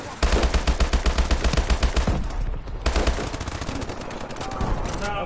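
Rapid automatic gunfire from a multiplayer shooter game rattles in dense bursts, loud and close, with a short lull midway before more shots resume.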